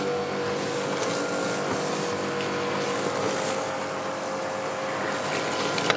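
Karcher K7 pressure washer running a rotating-brush surface cleaner over paving slabs, giving a steady loud hissing spray with a constant motor drone throughout, close by and without talk.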